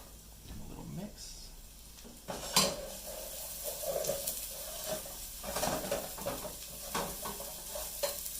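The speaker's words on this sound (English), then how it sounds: "Should be hearing that sizzle in a second." Refried rice fries in a pan with a steady sizzle while a utensil stirs and scrapes through it, making repeated clanks against the metal, with a voice speaking briefly.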